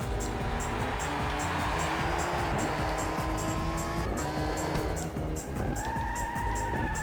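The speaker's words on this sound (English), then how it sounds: "Trying to carry too much speed in worn hard tyres in wet weather. And we slide off and then get a little bit caught in the gravel." Race car in the PS2 game Le Mans 24 Hours sliding off into gravel on worn hard tyres in the wet, a loud continuous engine roar with rising revs and tyre squeal, steady and close throughout.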